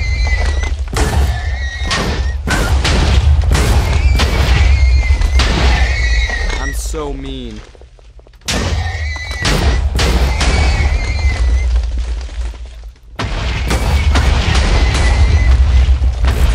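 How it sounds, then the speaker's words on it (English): Repeated booming explosions blast horses in the Minecraft game, with several whinnies and neighs between the blasts. A voice talks over them, and short quiet gaps break the run. "let's blow up some horses."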